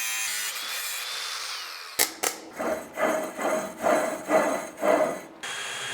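Rhythmic back-and-forth rasping strokes, like sawing or filing metal, come in a run of about six pulses as a part for a BMW E30 hose reel is cut down, following a steady whirring hiss at the start.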